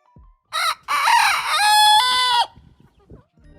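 A single all-black Ayam Cemani chicken crows close by, one loud drawn-out cock-a-doodle-doo after a short opening call, then quiet with faint clucks.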